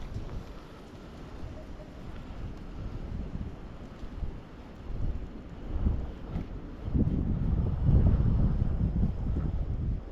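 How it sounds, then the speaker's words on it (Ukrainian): Strong wind roars and buffets the microphone in rising gusts by a river, a dense low rumble that swells louder toward the end. "Вітер такий дує, що може дерево звалити на голову."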